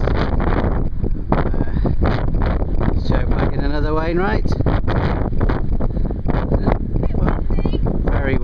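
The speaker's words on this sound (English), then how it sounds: "if you can hear me over the wind" Strong gusting wind buffets the microphone on a Fairfield Horseshoe mountain summit in the Lake District, roaring loudly and continuously under a man's close speech throughout.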